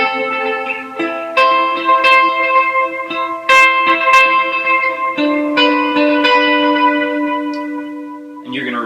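Lead electric guitar plays the intro of the worship song Found in You with delay and reverb, a string of picked melodic notes ringing into echoing repeats, loud and upfront, with no voices.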